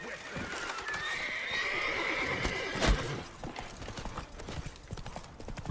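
Roach, the horse from The Witcher 3 video game, lets out a loud whinnying neigh over a busy game soundscape with hoof clip-clop and a voice speaking nearby.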